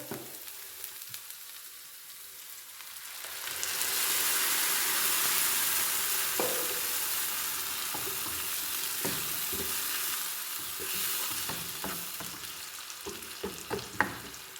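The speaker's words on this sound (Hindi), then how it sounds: "थोड़ा सा सौते करने के बाद हम इसमें डाल देंगे वो टमाटर" Ground tomatoes frying and being stirred in a pan for homemade pizza sauce, a steady sizzle that swells louder partway through, with scraping stirs and light utensil knocks near the end.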